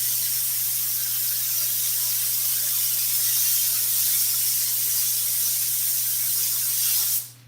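A spray gun lays a base coat of adhesive onto a Ford F-100 seat during upholstery work, giving a steady, close hiss over a low electrical hum that runs unbroken before cutting off abruptly near the end.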